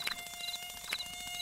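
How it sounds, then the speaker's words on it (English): Cartoon mosquitoes buzz with a thin, whining drone, joined by short repeated tonal blips, steady and fairly faint with no voices. "the sound of mosquitoes coming back with a delicious smell of sweat"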